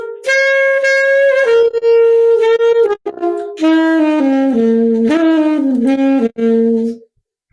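A whole band plays a scale exercise with improvised passages, bright sustained brass-like notes stepping up and down in loud phrases with brief gaps, ending abruptly into silence.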